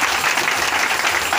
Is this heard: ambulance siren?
no